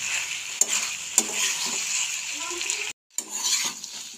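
A chilli mushroom mixture is stirred in a sizzling frying pan, with a soft steady frying hiss, a couple of sharp utensil taps, and a brief moment of silence before the sizzle resumes.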